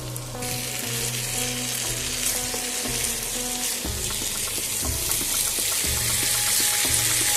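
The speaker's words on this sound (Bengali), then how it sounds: "এটা যখন রান্নাটা করবেন তখনই বুঝতে পারবেন একদম পারফেক্টলি ভুনা হচ্ছে কোয়েল পাখির।" Quail meat bhuna frying in a pan: a steady, dense sizzle running the whole way with a few soft scrapes and light knocks of stirring mixed in, close and fairly loud.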